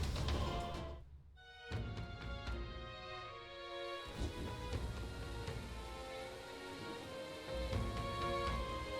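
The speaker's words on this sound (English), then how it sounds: "We're just standing in the rain." Steady rain falls in the video game Metaphor: ReFantazio, a continuous hiss of drops heard throughout beneath sustained tonal game music, with no voices.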